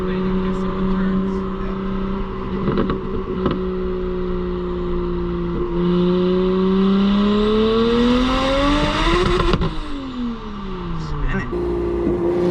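Single-turbo BMW 335i with the N54 engine accelerating hard from fourth into fifth gear: a loud, sustained engine drone rises in pitch and drops at the shift, then climbs again, with a voice talking faintly underneath.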